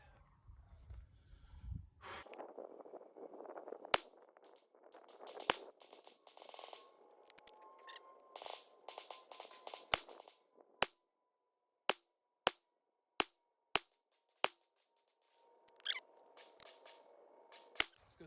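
Sig Sauer M17 9mm pistol fired at 25 yards with 124-grain ammunition: about ten sharp, echoing cracks, a few spaced shots followed by a steady run of evenly timed rounds, with quiet rustling between them.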